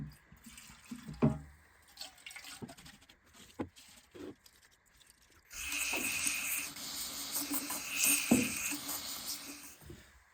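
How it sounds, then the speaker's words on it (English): Tap water running into a sink while a lawn mower fuel tank is rinsed out, heard first as scattered handling knocks and splashes, then as a steady gushing stream partway through with sharp clunks against the tank. "I'm going to go and take this to the sink and thoroughly clean it out"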